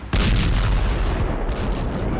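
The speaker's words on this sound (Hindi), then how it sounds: "दिल्ली की सड़क पर दौड़ती गाड़ी में धमाका हुआ।" A bomb blast in a moving car on a road near the Red Fort in Delhi hits with a sudden, very loud boom, followed by a sustained roaring rumble that stays loud to the end.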